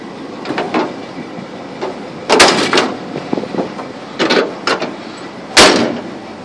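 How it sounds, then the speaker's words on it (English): Metal bangs and clunks from the bed of a 1976 Ford 4x4 pickup truck being opened and closed, several loud impacts scattered among softer rattles, close by and with no talking. "Bed opens and closes good."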